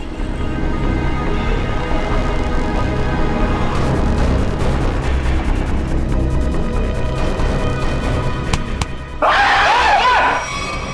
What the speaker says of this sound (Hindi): अबे क्या हो गया? लड़की की तरह चीखता क्यों है?